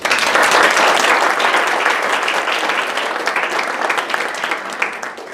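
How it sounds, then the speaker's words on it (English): A banquet hall audience at a softball team awards dinner breaks into full, dense applause, many hands clapping together loudly and steadily before gradually thinning out near the end. "I think they deserve a big round of applause"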